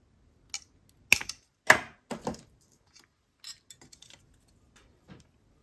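Silver pipe chain snipped with a cutting tool for a necklace, heard as a few sharp clicks and snaps spread across the clip, close and fairly quiet with brief handling noises between them.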